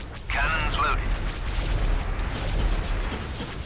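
Starship cannon blasts in the space battle strategy game Star Wars Republic at War, booming shots under a sustained rumbling roar, with characters talking over the battle.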